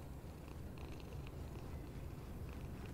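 A cat purrs steadily and softly in a horror video game set in the summer of 1958, a low continuous rumble with no voices over it.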